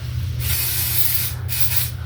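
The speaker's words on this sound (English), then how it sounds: "my mom's just doing a little spray" Two close, loud bursts of aerosol spray hiss, the first long and the second shorter, over a steady low hum.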